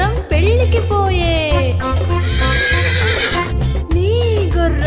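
A horse whinnies in two bright rising-and-falling neighs, set into an upbeat children's rhyme with bouncy music and singing that carries throughout.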